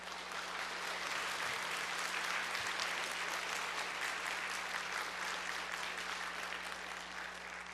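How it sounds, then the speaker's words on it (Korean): Church congregation applause welcoming a newly installed pastor, an even, sustained wash of many hands clapping in a large room, moderately quiet, with a steady low hum beneath and no talking. "저는 박수가 조금 더 강하게 나올 줄 알았는데"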